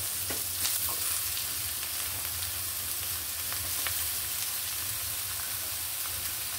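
Chopped snake gourd frying in hot oil with onion and green chillies, a steady dense sizzle with occasional stirring clicks, close and continuous.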